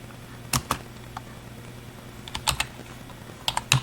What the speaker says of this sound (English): you type in nano.